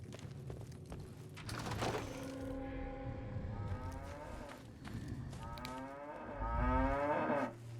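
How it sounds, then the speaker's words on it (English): Cows moo in the video game Fallout: Tale of Two Wastelands, several long, drawn-out low calls overlapping one another, fairly close and clear with no talking. "Oh wow, cows."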